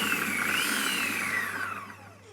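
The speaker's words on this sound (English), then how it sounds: "So I'll just puree this." A blender purees a banana and apple bread mixture with chia seeds, a steady loud whirring that holds evenly and then winds down near the end, with no talking.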